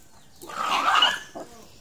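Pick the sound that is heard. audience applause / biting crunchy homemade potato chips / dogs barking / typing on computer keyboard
dogs barking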